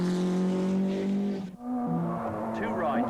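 A four-wheel-drive rally car is driven hard on tight, wet tarmac at the 1989 Circuit of Ireland, the engine droning, briefly dropping off, then rising again, heard under a voice.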